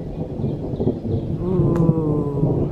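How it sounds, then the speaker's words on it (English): Low thunder rumbles through woodland at a campsite, a broad steady roll that swells slightly toward the end, with no voices present. "I think thunder's coming, Seren."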